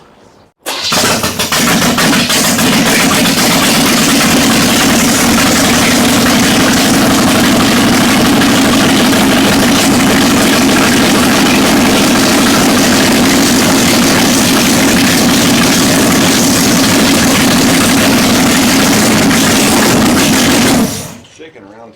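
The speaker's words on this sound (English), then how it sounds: "I want it to idle down." A 1960 Chevrolet El Camino, abandoned in the desert for 40 years and suffering vacuum leaks, runs at a loud, steady, fast idle for about twenty seconds, with a low rumble throughout and people talking over it.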